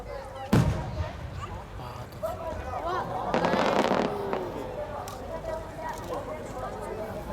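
Fireworks burst at a night fireworks festival in Japan: a sharp boom near the start, then a denser crackling, rumbling burst a few seconds later, amid crowd chatter and a loudspeaker announcer.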